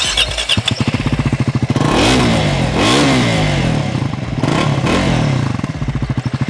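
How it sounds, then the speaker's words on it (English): A Triumph Scrambler 400 X motorcycle revs repeatedly, its rorty exhaust note rising and falling in several loud, close blips over a steady idle. "I think I like that really rorty exhaust note that the Scrambler 400X gets"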